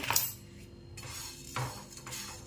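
Fenugreek seeds and spices being stirred together in a bowl for green chili pickle: soft, scattered clinks and scrapes of a utensil against the dish, quiet and close, with no talking.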